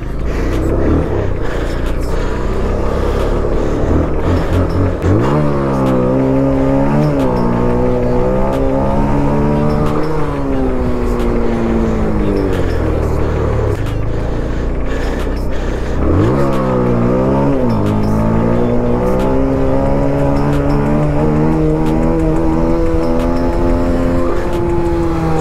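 A Pulsar 220F and an R15 motorcycle race at high speed, their engines droning steadily and loud, with two rising revving sweeps as the riders shift up under continuous road and wind roar.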